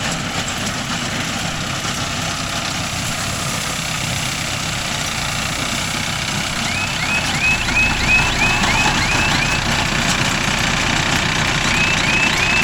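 Mahindra Arjun Novo 605 DI tractor engine running a Bharat groundnut baler, a steady unloaded drone at normal speed with faint repeated chirping beeps partway through, no voices.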